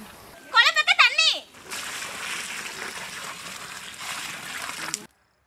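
Water is poured into a whole fried chicken curry gravy during village outdoor cooking. A short burst of voices comes first, then a steady, close splashing pour lasts about three seconds before stopping abruptly.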